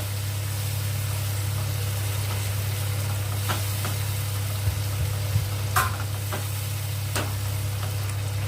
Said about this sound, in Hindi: अब हम टमाटर को पकाएंगे साथ में।